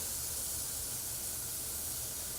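Grapeseed oil sizzling on a really hot grill, a steady, even hiss like spray or steam, fairly faint and continuous with no talk.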